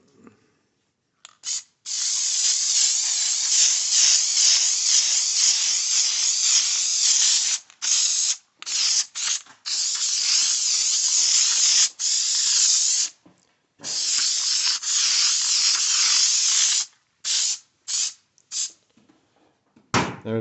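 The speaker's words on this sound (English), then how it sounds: "And you just spray this on." Aerosol spray glue hisses onto carpet for a 1980 Triumph TR7 interior, laid over paper on a worktable; close, loud bursts, some long and steady, others short and choppy, with brief pauses and no talking.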